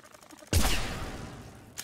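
A spread-shot weapon in Mass Effect 3 fires once with a sharp, loud blast that decays into a rumbling tail, and a second shot begins right at the end.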